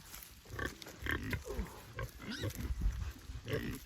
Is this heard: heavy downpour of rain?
no